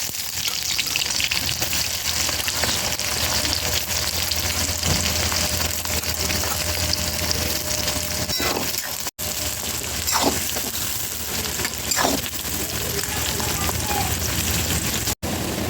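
Chopped onion frying with bay leaf, dried red chillies and spices alongside goat meat, a steady, fairly loud hiss and sizzle throughout, with a few brief scrapes and knocks, no talk.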